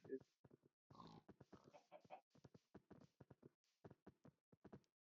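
Short grunts from a pig in the video game Minecraft, faint and intermittent, scattered among quiet speech.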